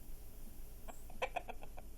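Chickens kept by a farmer, a few short clucks and calls bunched near the end over faint background noise, fairly quiet and alone.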